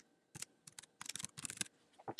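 Irregular bursts of light key clicks from typing on a computer keyboard, quiet and close, with short pauses between runs of keystrokes and no talking.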